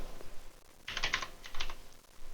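Short rapid bursts of keystrokes on a computer keyboard, two quick clusters of close, crisp tapping with a pause between, in an otherwise quiet room.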